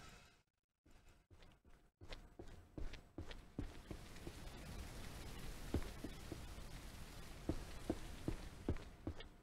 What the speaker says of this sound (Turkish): Ulan ne ara yağmur başladı?